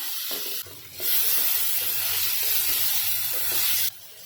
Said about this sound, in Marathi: टोमॅटो पण टाकून घ्यायचं टोमॅटोवर आहे ना थोडं मीठ टाकून घ्यायचं